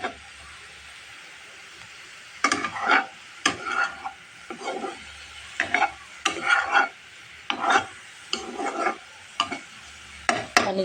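Boiled cauliflower being stirred and fried in a pan for bharta: a series of close, scraping stirs in short bursts, each sweep rasping against the pan over a faint sizzle, with brief pauses between.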